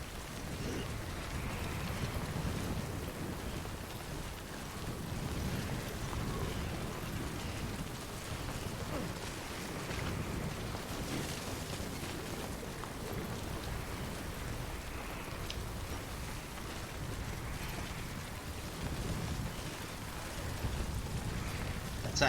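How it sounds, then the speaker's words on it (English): Heavy rain in the video game Death Stranding pours as a dense, continuous hiss with low rumbling underneath, steady and fairly quiet throughout, with no voice over it. "It's a heavy rain"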